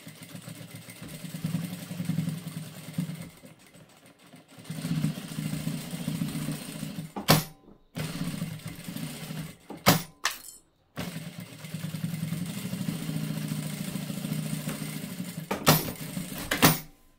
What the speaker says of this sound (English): So let's sew up the sides.